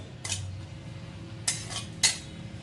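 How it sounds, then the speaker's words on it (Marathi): Dry coconut being roasted in a dry pan without ghee, three crisp scraping clinks from a spoon against the pan over a quiet low background. "आता फक्त आपण जे सुक खोबर घेतलंय ते फक्त हे चांगलं कडक होईतोपर्यंत याला थोडं परतून घ्यायचं आहे"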